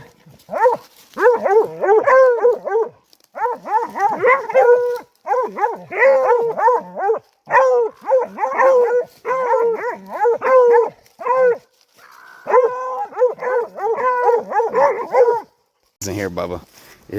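Young hunting dogs about ten to eleven months old bay and bark in long, dense rhythmic bursts with brief pauses, loud and close, a voice breaking in near the end.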